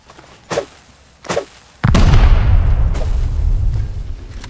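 Two short muffled thumps precede a heavy satchel charge explosion in the video game Rust, a loud booming blast with a long rumbling roar that lingers for seconds afterward.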